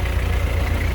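An antique EMF car from about 1911–1912, an early brass-era automobile, idles at a car show with a steady, deep, low chugging rumble that stays even and close throughout, with no talk.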